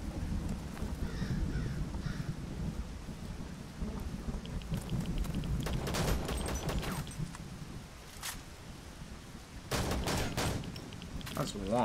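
Heavy gunfire from a big gun in the survival shooter Zero Sievert, booming bursts and crackling volleys near an airdrop in a forest, loud and continuous with sharp clusters of shots, under a player's occasional speech.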